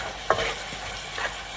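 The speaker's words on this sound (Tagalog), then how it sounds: "Haluin lang natin yan." A spoon stirs spaghetti sauce in a pan, giving two short scraping strokes over a soft, steady simmer, close and fairly quiet with no talking.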